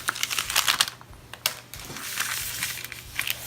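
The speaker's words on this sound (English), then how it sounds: "then I will laminate, and this will use heat and pressure to transfer the foil to the toned images" Laminator feeding a parchment sleeve holding foil over toned images, giving uneven clicking and rattling mechanical noise up close, with brief bursts and pauses, no voices.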